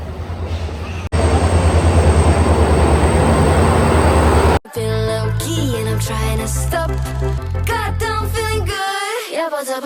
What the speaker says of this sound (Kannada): ಅಂತೂ ಟ್ರೈನ್ ಬಂತು